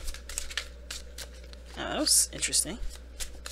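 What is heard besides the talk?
shuffling tarot cards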